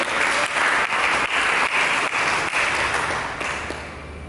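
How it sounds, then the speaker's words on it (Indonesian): Church congregation applauding during a sermon, dense sustained clapping from a crowd that stays loud throughout and fades slightly toward the end, with no talking over it. "Berikan tepuk tangan bagi kita"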